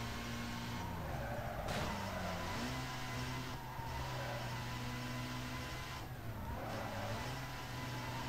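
Cars race in Need for Speed Most Wanted, a steady loud engine drone with rising and falling revs as the car accelerates and shifts through corners.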